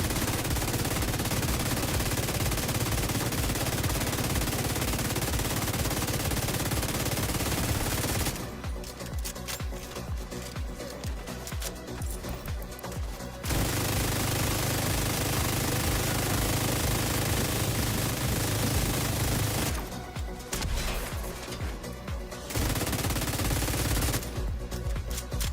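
Sustained automatic gunfire in the shooter The Division 2, loud, dense and continuous, broken by a few short pauses before the firing resumes.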